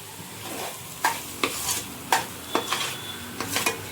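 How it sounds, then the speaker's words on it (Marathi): Masala with turmeric being stirred in a pan for a mutton curry, a soft steady sizzle broken by roughly seven sharp spoon scrapes at irregular intervals, close by with no voices. "आता हे परत एकदा परतून घ्यायचं आहे."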